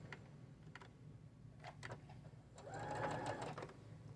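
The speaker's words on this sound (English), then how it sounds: "Now I'm going to back stitch here and continue my seam down to the bottom." A sewing machine back stitches along a zipper seam with a soft, close mechanical hum and a few light clicks, growing briefly louder toward the end as the stitching speeds up.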